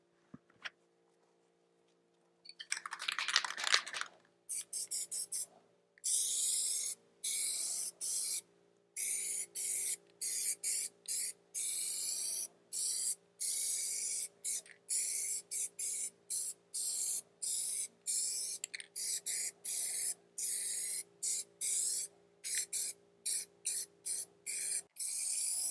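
Plasti Dip coating sprayed from an aerosol can onto a car wheel, a steady hissing spray in many short bursts with brief gaps between, close and fairly loud, with no talking.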